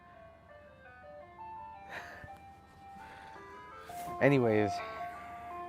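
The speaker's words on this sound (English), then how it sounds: "Just hearing that fucking song while I'm looking at my crashed car." An ice cream truck's jingle plays nearby as steady tonal melody lines, with a person talking over it and a louder burst of voice near the end.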